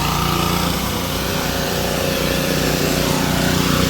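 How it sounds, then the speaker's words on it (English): Pressure washers run nearby with a loud, steady engine drone and high whine that holds constant throughout, with no pauses or talking. "Let's hold up while we go past these pressure washers working."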